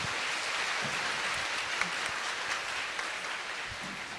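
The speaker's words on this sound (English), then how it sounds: "please join me welcoming them with a warm round of applause" An audience claps in a steady, dense round of applause welcoming an ambassador at a formal international organizations information session, sustained throughout with no voices over it.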